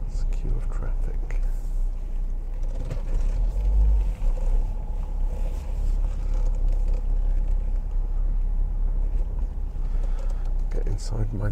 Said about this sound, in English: It's a queue of traffic.